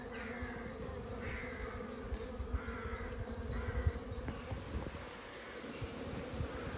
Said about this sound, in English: Bees crawling all over it.